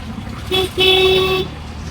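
A car horn blares twice in a short double honk amid busy street traffic in Sri Lanka, the toot standing out loud over a steady wash of road noise.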